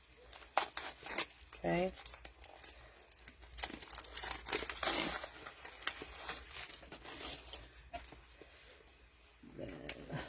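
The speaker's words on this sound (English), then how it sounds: "So I'm gonna open up my other card pack so that I can have the stickers out of it" Plastic packaging of a scrapbooking card pack crinkles and tears in bursts close up, a quiet papery rustle with short rips and handling noises, and a brief spoken word at one point.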